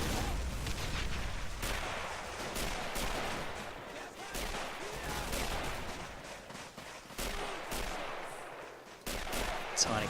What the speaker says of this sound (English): Plenty of grenades being used here.